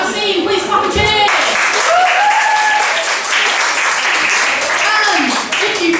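Live audience at a comedy improv show clapping and cheering loudly and steadily, with shouts and whoops mixed into a dense, continuous wall of applause.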